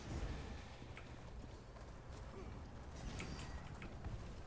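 Horse hooves gallop in Elder Scrolls Online during a Cyrodiil battle, a faint, rapid clip-clop of several riders mixed into low background game noise.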